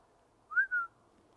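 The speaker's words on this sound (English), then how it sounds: "It sounded like a whistle." A single clear two-part whistle, a rising note followed by a slightly lower sustained one, heard alone against quiet background.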